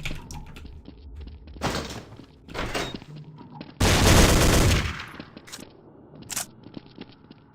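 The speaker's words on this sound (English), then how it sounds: "Or I can shoot him." Gunfire in a Godot-made video game: several separate loud bursts of rapid shots, one long sustained volley in the middle, with quieter thuds and pauses between.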